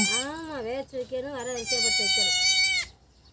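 Nearby goat bleating from a nanny goat with two kids: a warbling, pitch-bending call breaks into quick stuttering bleats, then one long sustained bleat that cuts off.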